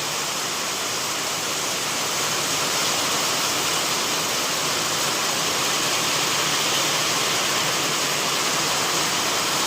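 Rushing rainwater floods through a farming village after a heavy downpour, a steady, loud, unbroken roar with no voices over it.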